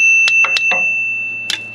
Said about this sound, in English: Maybe I can ring the bell and get them out here.